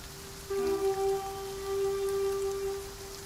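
Even, light rain patters on without a break in Camelot Unchained, with a sustained tonal hum laid over the steady wash.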